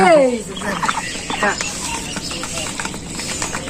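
Farm fowl, stated to be ducks on a village farm, call out in a loud burst of calls at the start, then keep up scattered squawks and clucks amid background noise.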